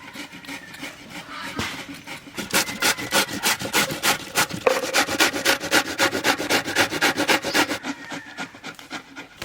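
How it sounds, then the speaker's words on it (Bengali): Ash gourd is rubbed back and forth on a grater machine, giving a close, rhythmic rasping scrape of steady strokes that speeds up and continues for several seconds. "এখন চাল কুমড়ো এই মেশিনে ঘষে ঘষে কাটে দেবো।"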